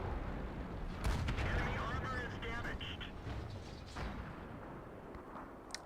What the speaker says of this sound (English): And we get some final shots in.